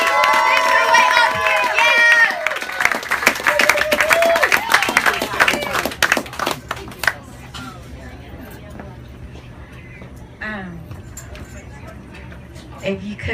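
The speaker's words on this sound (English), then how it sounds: "bigger round of applause as Ebony makes her way up to the stage" A crowd at an open-mic poetry night claps and cheers as the poet walks up to the stage, a dense burst of applause that slowly thins out, with people talking over and after it.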